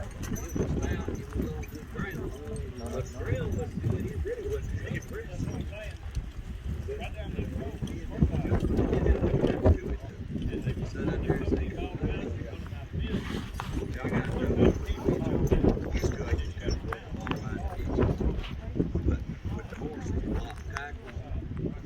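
Mules clop along with hooves striking the ground in an uneven rhythm while hauling logs at a cross-haul logging school, the steps mixed under near-constant talking.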